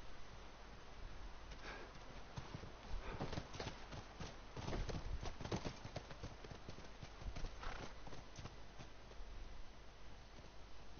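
Horse hooves clip-clop in a steady, uneven walking rhythm in The Last of Us Remastered, with occasional snorts and rustling over a constant game background.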